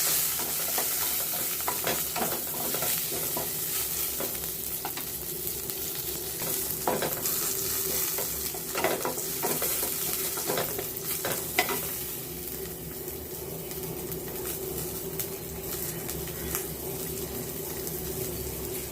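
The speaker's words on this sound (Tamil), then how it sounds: "கொஞ்சமாக சீரகம் ஒரு போர் வெடிக்கட்டும் வெங்காயம் பச்சை மிளகாய்" Cumin, onion and green chili fry in hot oil with mustard seeds in a pan, giving a steady, close crackling sizzle with stirring scrapes and small pops throughout, no voices.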